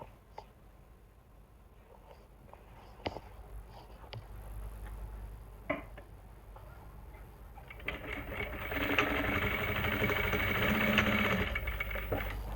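A sewing machine stitches elastic onto palazzo pants, a low mechanical hum with sparse clicks that builds into steadier, louder running stitching in the final seconds, no talk.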